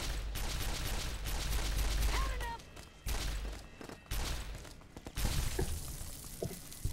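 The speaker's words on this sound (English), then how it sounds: "Who else is shooting at me?" Gunfire in Fallout: New Vegas comes as dense, loud bursts of rapid shots and crackling impacts, broken by brief lulls, with a short voice cry in the middle.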